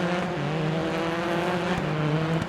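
A Peugeot 208 WRC rallycross car brakes hard in Dirt Rally. The engine holds a loud, close, tonal roar throughout, with a light edge of tyre noise and no speech.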